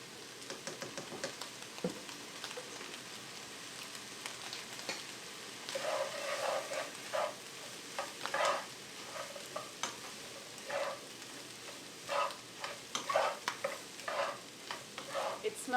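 Minced garlic sizzles in a pan for a cabbage dish while a utensil stirs it, giving steady frying hiss with repeated scraping strokes, close and moderately quiet, with no voices.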